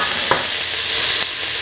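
Onion pieces drop into hot oil in a pan for a potato chickpea coconut milk stew, setting off a steady, loud sizzle with a brief stirring scrape, no voices.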